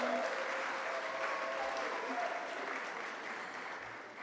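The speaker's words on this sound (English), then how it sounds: "please give a round of applause to everyone who's been involved so far" An audience at a television station's 30th anniversary gala claps in sustained, dense applause that fills the room and slowly tapers off.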